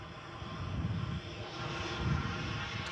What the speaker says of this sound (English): We're literally getting the Gulf Air departing